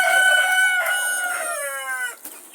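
A Legbar chicken gives a loud, close crowing-style call with drawn-out harmonic tones, then breaks off into a short squawk.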